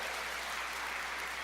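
A church congregation at a Sunday service claps in a soft, distant wash of steady applause, faint and even throughout.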